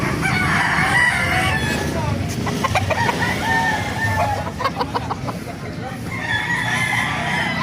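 An 11-month-old Kanawayan gamefowl rooster crows loudly nearby twice, once at the start and once at the end, with short clucks and farmyard noise in between.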